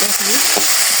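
A brief burst of hissing oil sizzle as food fries with salt and turmeric in a pan, close and loud, with a faint voice-like murmur underneath.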